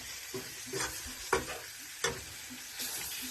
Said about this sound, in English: We just want to sear the outside of it.